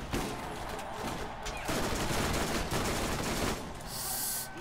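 SMG fire in the Borderlands video game, dense rapid bursts of gunshots filling the mix, loud and close, with brief gaps between volleys.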